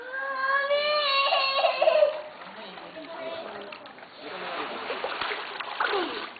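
A toddler walking alone through water sends up splashes, soft sloshing that rises and falls near the microphone, under a child's whimpering cry at first and then adult talk.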